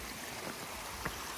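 Creek water at a trail crossing rushes in a steady, broad wash, close and continuous, with a few small splashing gurgles rising above the flow.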